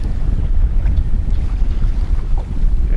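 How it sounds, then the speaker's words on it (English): Strong, constant wind buffets the microphone on a cold day while fishing for walleye, a loud low rumble with gusting swells and no voices. "It is windy today."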